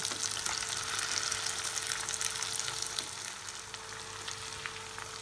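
Spicy fish pieces fry in a pan with a steady, close sizzle and crackle that holds at an even level throughout, with no voices.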